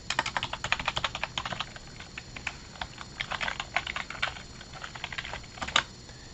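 An ID number is typed on a computer keyboard, with quick bursts of close, crisp key clicks separated by short pauses, loud against a quiet room.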